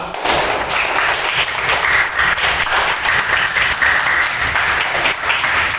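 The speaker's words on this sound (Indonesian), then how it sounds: "Beri tepuk tangan untuk kita semua." A school class applauding together, dense steady clapping that fills the room from start to finish at close range, with no talk over it.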